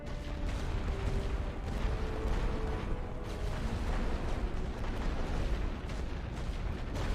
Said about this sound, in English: I think it takes about 2 heavy artillery battery sort of bombardments to get rid of a machine gun nest